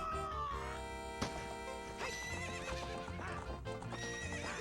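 Epona the horse in the Ocarina of Time video game gallops with rapid clip-clop hoofbeats and gives a loud whinny, set over continuous game music.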